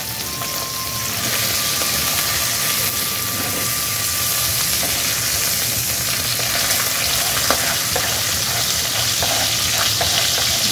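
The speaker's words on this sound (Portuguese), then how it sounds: "Eu vou colocar a minha pele virada para baixo e vou deixar fritando." Chicken pieces fry skin-side down in a hot pan for soup, a steady dense sizzle with occasional pops, close and continuous, with no talking.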